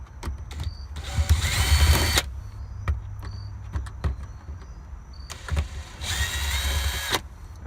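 A cordless power driver backs screws out of a Honda Accord center console: two loud whirring bursts of a couple of seconds each, close by, with small clicks and handling noises between them.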